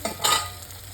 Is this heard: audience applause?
no